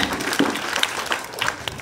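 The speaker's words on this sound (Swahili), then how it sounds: "Makofi ingine." Applause from a group of schoolchildren in a class session, a short burst of scattered clapping that rises and fades over about two seconds.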